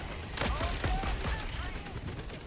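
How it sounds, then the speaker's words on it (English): Automated turrets in a war video game rattle off rapid bursts of gunfire, a dense stream of shots close and loud with a few brief sharper pops, amid game noise and background commotion. "Go turrets. Look at those things rip and tear."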